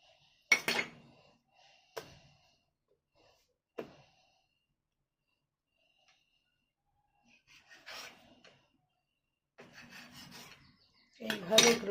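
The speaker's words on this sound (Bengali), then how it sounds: "ছুরি দিয়ে এটাকে আমি কেটে নেব।" An oiled knife cuts through sweet yeast bread dough made with egg, giving a few sparse scraping and rubbing strokes with quiet gaps between, close and faint.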